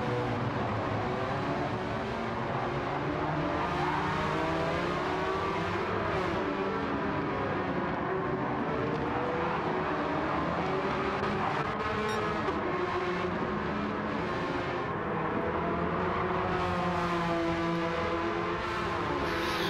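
Porsche Cup race cars in a video game, racing up the hill at Laguna Seca, their engines droning continuously and overlapping as several cars run close together, loud and steady throughout.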